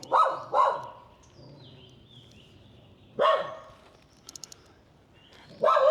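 A puppy barks in short bursts, two quick yips close by, then a pause with faint birdsong and another pair of sharp barks, at a temple site in Siem Reap, Cambodia.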